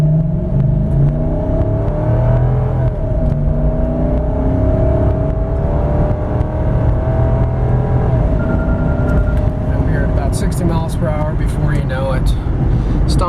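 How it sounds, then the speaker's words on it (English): A 2004 Lexus GX 470 4x4 accelerating hard from 0 to 60 uphill while turning, the engine note climbing in rising pitch through gear changes with road noise, and a person speaking over it. "We'll do a 0 to 60 pull, making a right-hand turn on the street."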